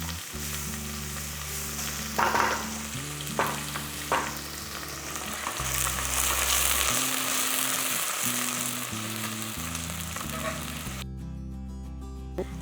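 Onions and curry leaves fry in a pan for a brinjal kuzhambu, giving a steady, loud sizzling hiss with occasional scraping stirs over low background music.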